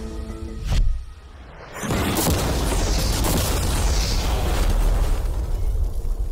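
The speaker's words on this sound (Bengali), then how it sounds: "বিস্ফোরণটা এত জোরে হয়েছে যে ভিতরের ম্যানিকুইন গুলো ছিটকে এদিক ওদিকে বেরিয়ে গেছে" An ordinary car with mannequins seated inside is blown up: a sharp, booming blast followed by a sustained loud rumbling roar of debris and fire that continues to the end.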